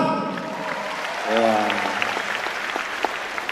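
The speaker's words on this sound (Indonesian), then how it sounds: "Tepuk tangan buat Radar Malang" Applause rises and patters through a crowd at an anniversary stand-up comedy show, with sharp scattered claps following a voice on stage and continuing after he stops.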